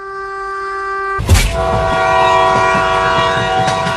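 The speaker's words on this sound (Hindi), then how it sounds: "देखो एक और ट्रेन आ रही है।" A train rolls in loudly, a horn or whistle holding steady tones at first, then a sudden surge of rumbling wheels and clattering railcars passing close by.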